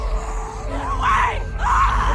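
A girl screams twice in The Walking Dead video game, piercing wails rising over a low ambient rumble, the second cry following shortly after the first.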